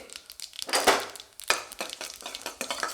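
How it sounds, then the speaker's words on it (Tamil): Mustard seeds crackling and spluttering in hot oil in a pan, a busy scatter of sharp pops and crinkly bursts, some louder snaps standing out, close and alone without talk. "அரை டீஸ்பூன் கடுகு சேர்த்துக்கலாம் கடுகு ரெடிக்கட்டும்"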